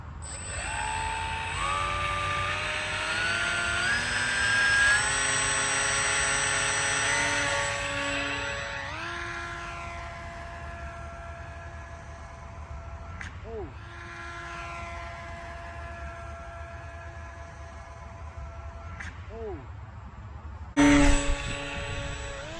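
An FT Explorer RC model airplane on its maiden flight gives a steady, high electric motor whine that rises as the throttle opens. It then sweeps up and down in pitch as the plane makes several passes overhead, with a sharp burst of sound near the end.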